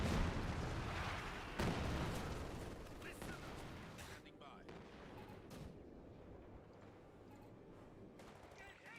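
An artillery strike in a Company of Heroes match, with heavy explosions and gunfire bursts early, then a fading battlefield rumble with scattered distant blasts.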